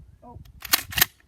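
A rifle fires at a water-bottle target outdoors: two sharp, loud cracks about a quarter second apart over quiet background rumble.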